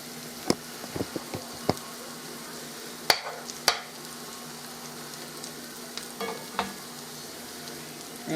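Fried cornbread cooks in a pan with a quiet, soft sizzle, broken by several sharp clicks and taps.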